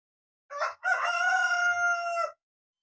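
A rooster crows loudly nearby, a short note then a long drawn-out cock-a-doodle-doo, in an otherwise quiet setting.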